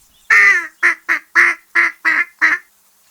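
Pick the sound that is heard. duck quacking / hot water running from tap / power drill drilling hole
duck quacking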